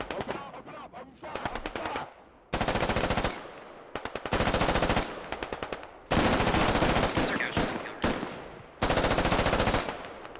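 Sustained machine-gun fire in the tactical shooter game Squad, rounds passing overhead in long rapid bursts separated by brief pauses, loud and close, with a voice faintly talking between volleys.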